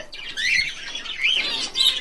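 A small red-eyed yellow pet bird chirps and squawks up close in a few sharp, high calls with short pauses between them.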